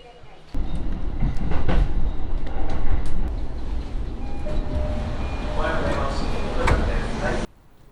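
Train cars rumble steadily along the rails with periodic clacks and a loud jolt near the end, heard from inside the carriage of a Japanese train.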